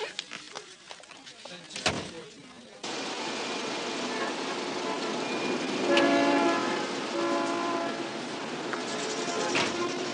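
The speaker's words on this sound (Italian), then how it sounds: "Lo sai che qui a New York abbiamo la metropolitana" A New York subway train rumbles and screeches along the rails, a loud sustained roar with squealing metallic tones rising midway, following a few brief sounds at the start.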